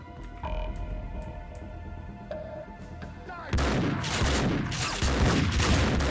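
Gunfire in the video game Max Payne 2: faint sparse shots at first, then a loud, dense burst of rapid gunfire and impacts filling the second half.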